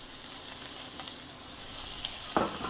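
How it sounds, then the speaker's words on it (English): Food sizzles steadily in a hot frying pan, a continuous close hiss with a few brief crackles and pops and no talking. "Sizzle."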